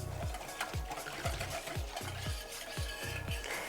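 A yeast and sugar mixture stirred in a bowl, heard as a steady series of about seven rhythmic swishing strokes, close up and with no one talking.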